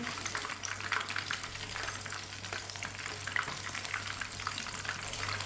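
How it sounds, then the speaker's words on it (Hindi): Chicken pieces frying in hot oil in a pan, giving a steady, moderately loud sizzle and crackle throughout with faint stirring sounds and no voices. "तीन मिनट के लिए मैंने एक साइड से फ्राई कर लिया है।"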